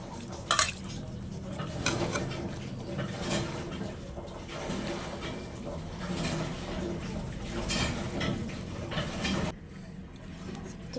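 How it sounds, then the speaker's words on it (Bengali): Roasted tomatoes being mashed with a hand masher for tomato bharta, a steady run of soft squelching presses and scraping against a bowl, with light clinks of metal, close and continuous, no talking. "এই ম্যাশটা দিয়ে আমি এইভাবে চেপে চেপে এটাকে আমি ম্যাশ করে নেব"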